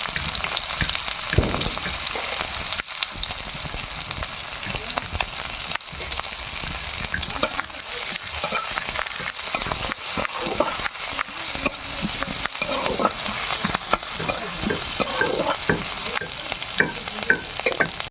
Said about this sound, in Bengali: তেল গরম হয়েছে পেঁয়াজ দেওয়া হচ্ছে